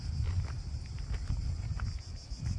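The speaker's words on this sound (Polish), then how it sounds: "Cykady słychać." Cicadas in Omiš, Croatia give a steady high-pitched buzzing drone along a road down toward the sea, heard under nearby footsteps and low outdoor rumble.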